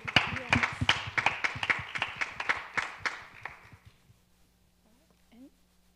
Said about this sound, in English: another big round of applause for everybody who performed tonight